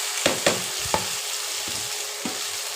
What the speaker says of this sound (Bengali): বড়ি আর আলু দিয়ে দিলাম